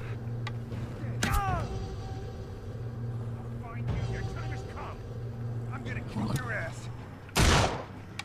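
Intermittent gunshots ring out in the final stage of the I Am Alive video game, sparse and moderately loud over a steady engine-like hum, with someone talking throughout and a heavy blast near the end.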